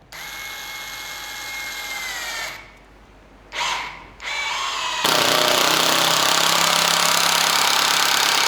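A DCA ADPL03-14 cordless impact driver runs in loud whirring bursts with two brief pauses. It then kicks into a louder, harsher steady run through the end.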